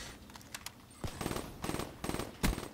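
Automatic gunfire in the Call of Duty: Black Ops 3 video game comes in several sharp, rapid bursts separated by short pauses, loud and close.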